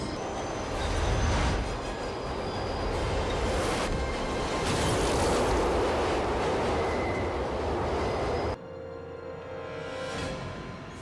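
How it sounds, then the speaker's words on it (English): A train rumbles loudly and continuously, growing in intensity with rattling wheels and squeals, before the noise abruptly drops to a quieter rumble. "There's a train coming."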